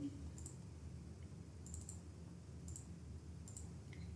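A computer mouse clicks faintly several times at irregular intervals over a quiet hum of room noise while working in a spreadsheet.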